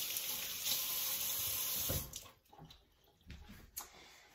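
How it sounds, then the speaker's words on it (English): Running tap water pours steadily as hands are rinsed at a kitchen sink during muffin baking, the broad rush cutting off about halfway through, followed by a few faint drips and small clatters. "Rinse off my hands."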